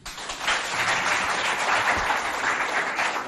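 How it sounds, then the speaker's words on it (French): A school audience at a quiz competition between CEG de Doba and Lycée Collège les Génies applauds in a dense, steady burst of clapping lasting a few seconds, close and fairly loud. "On applaudit."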